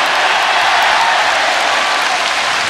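A concert audience at a rock show breaks into dense, steady applause, loud and continuous throughout with no break.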